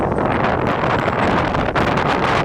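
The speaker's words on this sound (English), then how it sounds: "Extremely windy." Loud, sustained inflow wind near a supercell thunderstorm buffets the mic in a constant rushing roar, with brief dips and surges throughout.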